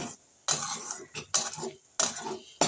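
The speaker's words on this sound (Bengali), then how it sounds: "সব কটা উপকরণ একসাথে আবারও নেড়ে নেব" Chili paste being stirred into fish gravy for a taki fish tel jhal in a pan, heard as several loud scraping clatters of a metal utensil against the pan in bursts with short pauses, no talking.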